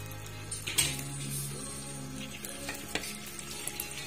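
Sauce for pork steak bubbles and sizzles in a pan, a steady soft hiss with occasional spoon scrapes and small pops, close and moderately quiet.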